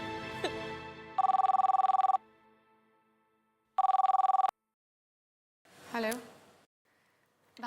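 A telephone rings in two loud electronic bursts separated by a pause, with brief Hindi voices before and after, in a Hindi TV serial scene.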